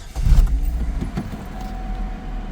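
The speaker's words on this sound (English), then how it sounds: "and when you do turn on the car," A used car's engine is started, with a jangle of keys, a brief starter crank and the engine catching into a low steady idle close by.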